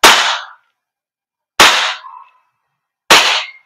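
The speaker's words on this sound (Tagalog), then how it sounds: "So, firing, semi-auto." A WE Glock 35 Force Series T5 airsoft gas blowback pistol fires three single semi-auto shots, each a loud sharp crack with a brief metallic ring, spaced about one and a half seconds apart.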